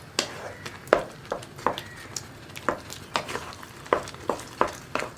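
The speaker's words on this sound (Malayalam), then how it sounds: "ഇതൊന്ന് ഇതുപോലെ നന്നായിട്ട് ഇളക്കി മിക്സ് ചെയ്യുക" Ripe banana mixture stirred in a pan over medium flame, a soft steady sizzle under a regular series of sharp taps and scrapes from the spoon.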